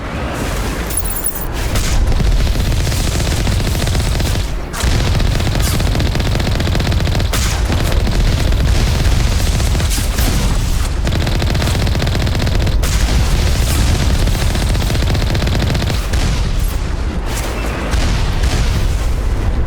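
Dense, loud turret and machine-gun fire rattles without letup during a base assault on an asteroid in Mass Effect Legendary Edition, layered with booms and explosions and broken by only a few brief lulls.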